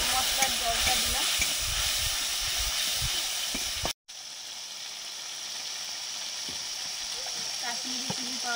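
Chili paste and spice water added to a hot frying pan bring a loud, steady hiss and sizzle, then a brief cut and a quieter sizzle that goes on; no one talks.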